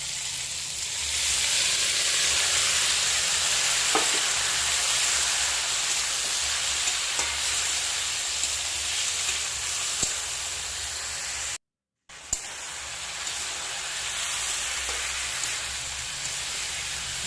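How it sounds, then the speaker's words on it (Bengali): Broken wheat dalia and red lentils stir-fry in a wok, a steady close hissing sizzle with a few faint stirring ticks and a brief cut in the sound near the end. "ভালো করে সব কিছুর সঙ্গে কষিয়ে নিতে হবে যতক্ষণ না কড়াইয়ে লেগে লেগে আসছে"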